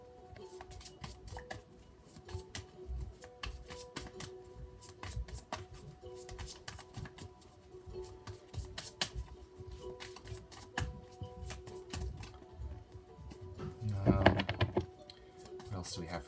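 Tarot cards are shuffled close up in a long, continuous run of soft riffling and flicking, with a louder burst near the end, while a person talks quietly in the background.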